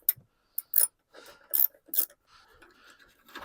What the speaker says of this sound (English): 10mm socket with an extension works real good on this